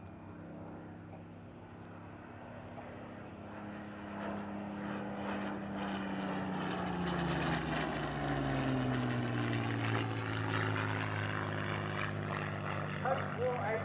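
A Supermarine Spitfire propeller aircraft flies past at an air display, its engine drone rising and sweeping in pitch as it nears, loud and sustained, while a voice talks over it.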